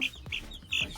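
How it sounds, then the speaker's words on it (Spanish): Guinea fowl clucking, a few sharp, high, rasping calls in quick succession, close and clear over faint background noise. "Y aquí tenemos más gallinas de Guinea"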